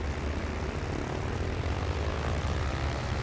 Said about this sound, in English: Got his engine going.